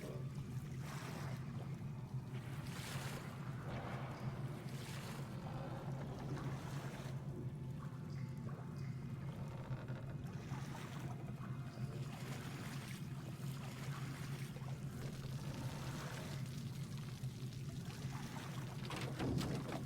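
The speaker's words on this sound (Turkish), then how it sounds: "Tekneyle devam et." Boat moving over water in Metro Exodus Enhanced Edition, producing a steady faint rushing wash of water and low engine hum that continues evenly for twenty seconds.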